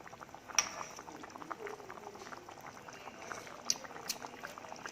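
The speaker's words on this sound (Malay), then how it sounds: "Biarkan seketika sehingga dia menggelegak." Gulai lemak nenas ikan masin, a coconut-milk curry with pineapple and salted fish, bubbling steadily in a pot, with a soft, continuous low simmer and a couple of sharp clinks standing out.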